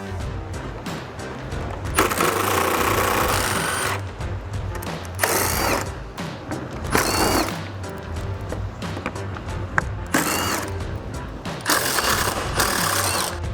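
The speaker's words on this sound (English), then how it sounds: "I'm going to use an extension and a 10 millimeter socket." Ratchet fitted with an extension and 10 mm socket backing out bolts on a 2015-2017 Ford F-150 grille, giving bursts of rapid clicking and rasping that repeat through the clip, close and fairly loud, with no talking.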